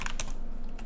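Typing on a computer keyboard, a few quick close clicks of keys near the start and again at the end, with a quiet stretch between them and no talking.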